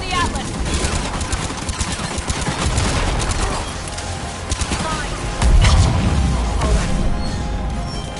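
Dense, continuous barrage of booming cannon fire and explosions in a video game, loud and close, with a heavier burst of blasts near the end.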